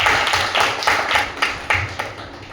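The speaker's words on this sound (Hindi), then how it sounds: "और यहां पर पहले हम ताली तो बजा देंगे।" An audience claps together at a product training session, a steady patter of many hands that sounds fairly close and stays even for a couple of seconds, with no talk over it.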